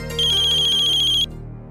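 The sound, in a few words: phone ringtone ringing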